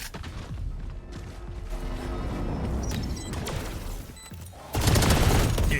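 A grenade going off during a competitive video game match, a sudden loud burst near the end after a stretch of rattling gunfire and mechanical clatter.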